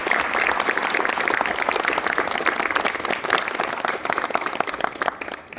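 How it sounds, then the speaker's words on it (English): An audience at a high school signing day breaks into lively applause, individual claps distinct within the crowd and thinning gradually toward the end. "So round of applause right now just for this moment."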